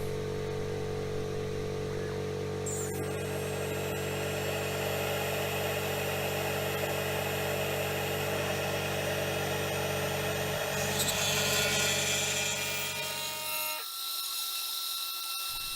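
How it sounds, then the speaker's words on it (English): A CNC router fitted with a 1/8 inch mill bit cuts into wood from a found board, giving a steady loud whir with a high tonal whine over a low motor drone, running continuously until it stops abruptly near the end. "Going down to the 1/8 inch mill."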